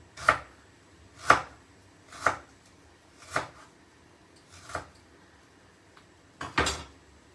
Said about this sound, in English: Some ginger, which I'm just thinly slicing.